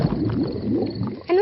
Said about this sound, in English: It's Daddy's tummy. My tummy rumbling is one of the best sounds of nature.